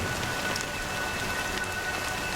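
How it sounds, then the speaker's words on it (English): Steady rain falls in the video game Honkai: Star Rail, a dense even hiss of drops on surfaces with no voices and no breaks. "But it's still raining."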